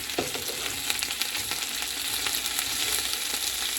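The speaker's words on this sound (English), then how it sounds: "Fried potatoes, fried in brown butter." Potatoes frying in brown butter in a pan, giving a steady, dense sizzle with fine crackles throughout, close and alone.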